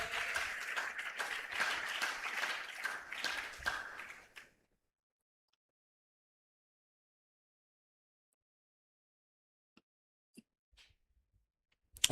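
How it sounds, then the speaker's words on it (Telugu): A church congregation claps in a brief burst of applause for about four seconds, then near silence with a few faint taps and knocks. "కొట్టో చప్పట్లు ఒకసారి"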